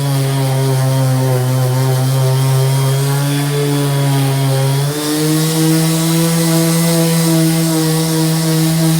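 A TOPSHAK 5-inch random orbit sander runs steadily under two-handed pressure, a loud continuous motor whine with harmonic tones that dips slightly in pitch midway and then holds without bogging.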